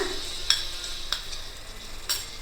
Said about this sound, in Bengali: এটা দিয়ে 2 মিনিট একটু ভালো করে নাড়িয়ে নিতে লাগবে।